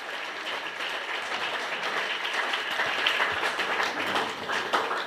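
A church congregation bursts into sustained applause and clapping, a dense, steady wash of many hands filling the room for several seconds without pause.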